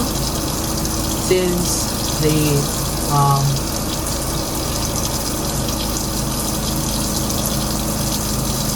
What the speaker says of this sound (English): So now I'll be going to turn up the faucet with the clean tissue